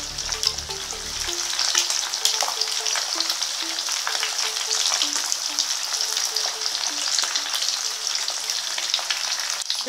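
Eggs and sausages fry in a pan for breakfast, a steady, close sizzle and crackle with constant spitting, scattered pops, and no talk throughout.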